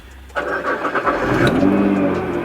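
A Nissan GT-R with newly installed downpipes cranks and fires up, settling into a loud, throaty idle with a brief rev, heard close by.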